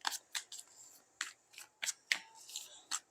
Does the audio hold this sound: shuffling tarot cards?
yes